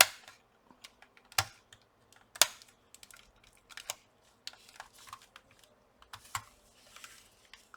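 Plastic pry tool working buttons loose from a Sony PS5 DualSense CFI-ZCT1W controller during disassembly: sparse, close, faint clicks and sharp plastic snaps with quiet scraping between them, no talk.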